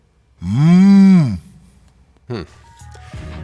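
A commentator in the NBA 2K15 basketball video game imitates a moose call with a long, loud, cow-like moo that rises and falls, followed by a short grunt and commentary.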